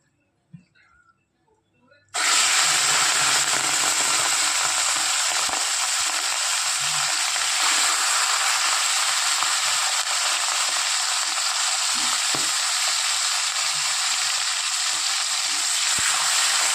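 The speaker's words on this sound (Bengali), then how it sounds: "এবার চিংড়ি মাছগুলো ভেজে নেব।" Prawns frying in hot mustard oil in a wok, a loud steady sizzle that starts abruptly after a quiet moment and holds evenly throughout, with a few faint clinks.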